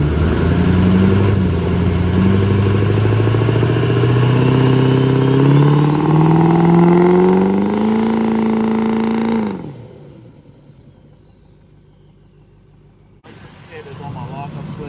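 A turbocharged diesel truck engine, heading out in a UCC build, revs loud and close with rising tones as the turbo spools, then drops off abruptly into near silence.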